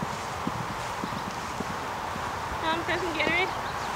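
A horse's hooves clip-clop on grass during a show-jumping lesson, with soft irregular thuds in a trotting rhythm at moderate distance, while a person speaks briefly near the end.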